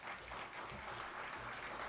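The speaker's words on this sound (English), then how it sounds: "it's not appropriate to applaud or make other comments during this time" An audience at a city council meeting in Gallatin claps in a dense, continuous burst of applause, faint and spread across the room.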